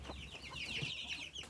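Backyard hens peck at a plate of fresh salad greens, making soft, busy clucks and murmurs close by over a steady background.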